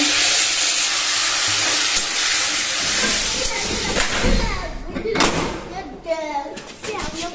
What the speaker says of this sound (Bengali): কড়াইয়ে তেল দিয়ে দিয়েছি আর তেলে দিয়েছি সর্ষা ফোড়ন আর শুকনো লঙ্কা এগুলো এখন লাল লাল করে ভেজে নিচ্ছি